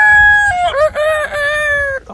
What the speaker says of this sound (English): Here comes another little chicken.